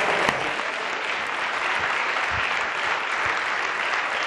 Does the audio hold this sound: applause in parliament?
yes